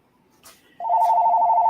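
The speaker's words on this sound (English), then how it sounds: "I hope they're going to answer that phone. It's not our phone." A telephone begins ringing partway through, a loud, steady electronic trill that follows brief faint background noise.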